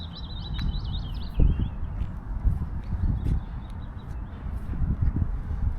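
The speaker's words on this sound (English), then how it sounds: "I saw a little bird there" A small wild bird gives thin, high chirping calls while being fed outdoors, faint and brief at the start, over rustling, scuffing movement and handling noise close by.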